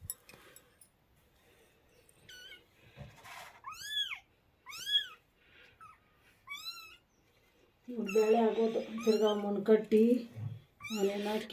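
High, thin kitten mews repeat in short bursts, close by, with someone talking softly over the later cries.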